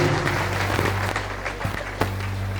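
Church congregation applauding, a dense wash of clapping at steady loudness with a few sharper accents, a low hum underneath throughout.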